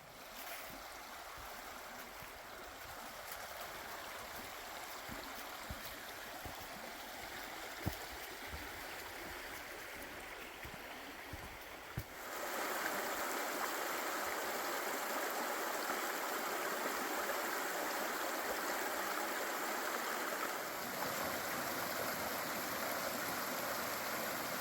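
Small stream at a creek crossing on a Kentucky waterfall trail, steady soft gurgling and rushing water that grows fuller and brighter halfway through, close by and alone with no voices.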